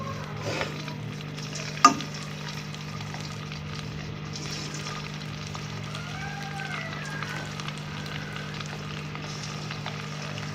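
Chicken manchurian cubes frying in oil in a pan over a medium flame: a soft, steady sizzle and bubbling with an underlying hum, and one sharp clink of a spoon near the start.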